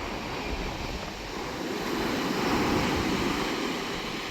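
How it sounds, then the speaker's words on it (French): Steady wind rushes across an open beach after a storm, a broad continuous roar that swells slightly midway, with surf blending into the wash. "Il y a un peu de vent là, ça souffle encore"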